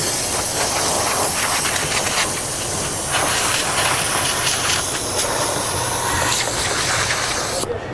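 A steady, loud hiss of a steamer spraying onto Protekt paint protection film on a car, continuous for several seconds, broadband and constant with no voices, cutting off abruptly at the very end.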